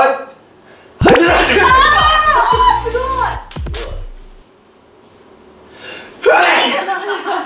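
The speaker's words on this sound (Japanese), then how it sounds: "小よりを使ってくしゃみをしながら挨拶" A voice speaks in a high, playful tone and breaks into a sneeze set off with a twisted paper string, then after a quiet pause a second loud sneeze bursts out close to the mic.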